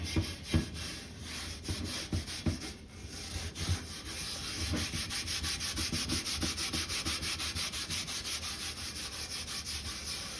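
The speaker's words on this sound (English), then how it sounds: "I'm gonna scrub this a little more, and then before we get it back into the vinegar bath, we'll do an update." A rusty cast iron breakfast skillet is scrubbed by hand, starting with a few uneven strokes and then settling into a fast, steady back-and-forth scouring rhythm, close and fairly quiet with no talking.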